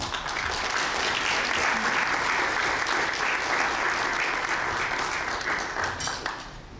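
Audience applause at an MLK interfaith prayer celebration as Bryan Sanders comes on stage, a dense, steady round of clapping that holds strong for several seconds and thins slightly at the end.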